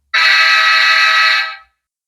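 Third variant of the Soundtraxx K5LA locomotive horn from a model diesel sound decoder, one bright, loud sustained chime blast of about one and a half seconds that fades quickly at the end, with nothing else present.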